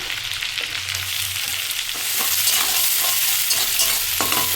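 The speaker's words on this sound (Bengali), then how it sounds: "তেল আর একটু দিয়ে দিলাম। দিলাম রসুন কুচি, আদা কুচি, এবার দিলাম পেঁয়াজ কুচি" Chopped garlic, ginger and onion frying in oil in a pan, a loud close sizzle with spatula scrapes and taps that swells after the first couple of seconds, and no voices.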